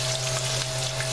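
Sweet plantains fry over medium heat in a pan, giving a steady, close sizzle that runs without pause under a faint background hum, with no voices.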